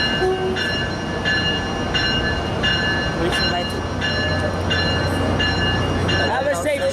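Northbound train P680 rolls out of Fort Lauderdale Airport Station, a continuous loud rumble with repeating clicks from the wheels and a brief horn-like tone near the end, with people talking nearby.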